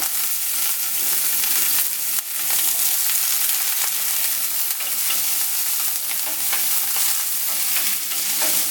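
Jerk seasoning sizzles steadily in a little hot oil in a pan for Jamaican jerk shrimp, with continuous frying crackle and occasional scraping stirs, close and constant throughout.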